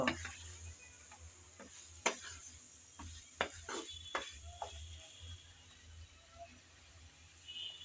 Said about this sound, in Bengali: আমি কিছুক্ষণ নেড়ে চেড়ে ভালোভাবে ভেজে নেব